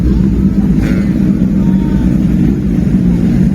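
Big motorcycles on a Sunday morning group ride, a loud continuous low engine drone close by with steady rumble and wind, no talk.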